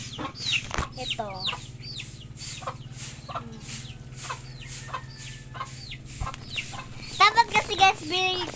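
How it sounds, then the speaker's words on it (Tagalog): Chicks and hens in a backyard flock cluck and peep repeatedly at close range, with short bursts of chirping scattered over a steady low hum and a louder flurry of calls near the end. "Ito ang aking mga sisiw."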